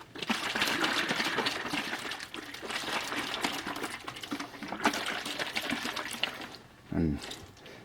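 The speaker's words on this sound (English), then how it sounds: "I'm going to shake it up." Lime water sloshes and rattles as a one-quart Nalgene bottle is shaken hard, a continuous close churning with a brief thump near the end and a voice speaking over it.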